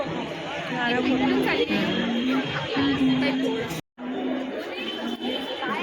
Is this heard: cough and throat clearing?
no